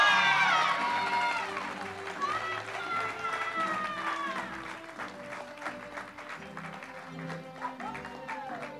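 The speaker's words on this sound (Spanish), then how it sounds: "vamos a aplaudirle a Kiara." Applause for a graduating student at the Trina Padilla school graduation in Arecibo, Puerto Rico: moderate clapping from the audience, with voices and crowd noise mixed in throughout.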